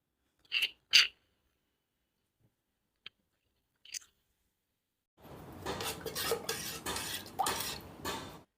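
A few light clinks, then a steady wet swishing as crushed spices are stirred briskly through buttermilk in a bowl, close by.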